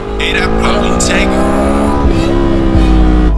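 An NK400 motorcycle engine idles on its own while the clutch is sticking, making a loud, close, continuous rumble with a steady pitch and a slight rise near the end, under bits of talk.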